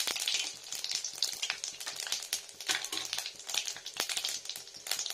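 Panch phoron crackles and pops in hot mustard oil, a dense run of quick sharp spits and snaps. The sizzle is fairly quiet but busy, with no voices.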